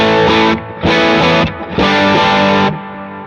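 Gretsch electric guitar through distortion, loud and close, with a few heavily saturated chords sustained and separated by short gaps.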